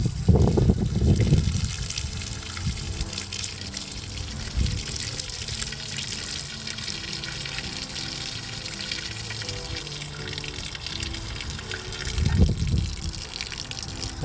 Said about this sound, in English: the first thing you got to do when you get back home is wash your trailer down